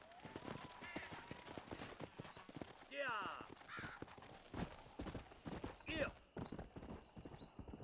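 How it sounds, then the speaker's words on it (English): A horse galloping in the Red Dead Redemption video game, with rapid rhythmic clip-clop hoofbeats and a few whinnies, mixed with scattered gunshots and game sounds under ongoing talk. "Horses seem a bit too fast for me."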